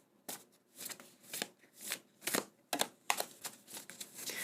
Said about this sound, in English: Let's get some more cards pulled here.